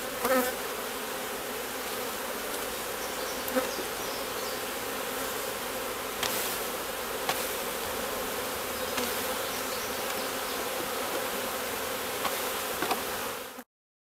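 A dense, continuous buzz of many honeybees swarming close by from open hive boxes being combined, steady and loud throughout with occasional faint knocks.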